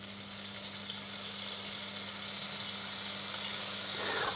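Butter and olive oil sizzle steadily in a frying pan, a close, even hiss that holds throughout and swells slightly near the end.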